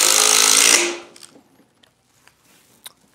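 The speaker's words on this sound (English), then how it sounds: "using the impact gun, a breeze" A loud buzzing impact driver drives a screw into a pre-drilled hole in wood, runs briefly and cuts off, followed by faint clicks and small handling taps in near silence.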